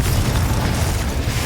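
A Confringo fire spell blasts in Hogwarts Legacy, a loud, dense burst of explosive rumble filling the whole moment without pause.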